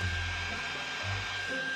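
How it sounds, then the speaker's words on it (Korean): A hair dryer running steadily while drying hair, a continuous loud whooshing blow with a faint whine, with no pauses across the short stretch. "머리 일단 말리고 오겠습니다"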